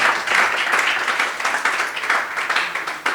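An audience applauds steadily at a talk or event, a dense wash of many hands clapping at close range that holds at an even level throughout with no voices over it.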